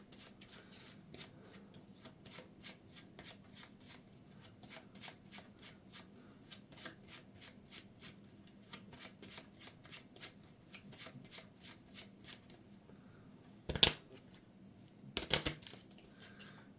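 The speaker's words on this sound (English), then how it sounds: "and then shuffle the rest." Marvel Champions encounter deck cards are shuffled by hand in a quick run of soft riffling flicks, followed near the end by two louder bursts of cards snapping together, close and quiet overall.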